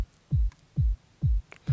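Four evenly spaced, punchy trance kick drums programmed in FL Studio, each a deep booming thump with a downward pitch sweep, with faint hi-hat ticks between beats and no voices.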